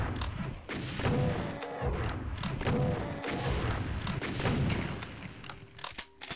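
Rocket launches and explosions in Doom 2, fired at a revenant: a steady run of muffled booms and crashes, fairly quiet overall and repeating every second or so.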